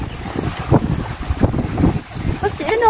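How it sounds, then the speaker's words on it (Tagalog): Strong wind buffeting the microphone outdoors on the rocks by the Stanley Promenade seawall, gusting in rough bursts, with a voice briefly audible near the end. "Grabe yung hangin."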